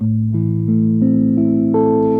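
A guitar plays a sweep-picked broken chord, notes entering one after another and ringing together, building up steadily and clearly with no talking.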